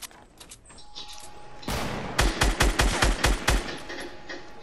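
Fortnite gunfire erupts in a rapid burst of loud, evenly spaced shots after a quieter lead-in, close and punchy, with the rhythm of automatic fire.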